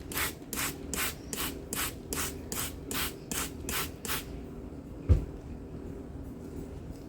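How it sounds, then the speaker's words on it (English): About ten quick bursts of a spray bottle misting plants in a garden hiss in a steady rhythm, followed by quiet and a single soft knock. "Now I'm going to spray them just to be on the safe side."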